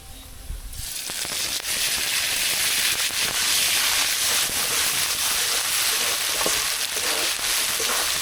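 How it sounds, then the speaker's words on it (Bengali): Onions with ginger-garlic paste frying in a pan, a steady loud sizzle that builds from a quiet start and holds dense and hissing throughout, with faint stirring clicks. "আদা রসুন দিয়ে একটু ভেজে নেবো"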